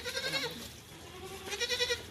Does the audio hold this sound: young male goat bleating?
yes